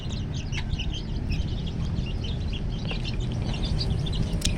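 Hens cluck and chirp softly in an open-run coop, several birds calling in scattered short bursts over a steady low rumble of background noise.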